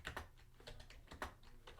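Keys are struck on a Mac keyboard while typing the Option-Space shortcut, a quiet series of distinct clicks at an uneven pace, close and soft, with no talking.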